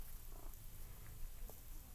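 A cat purrs softly and steadily up close, a low rumbling drone with no voices.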